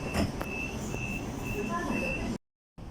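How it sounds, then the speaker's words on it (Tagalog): A small short-distance passenger train rumbles from inside the carriage with a steady low roar and a faint high whine, and a voice talks over it before a brief cutout. "So dito na ako sa loob ng train."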